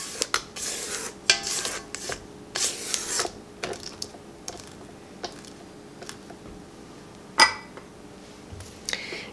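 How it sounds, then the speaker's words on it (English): A spatula scrapes around a mixing bowl of gingerbread dough, making irregular soft scrapes and sharp clinks against the bowl, fairly quiet and close. "We're going to scrape down our bowl again."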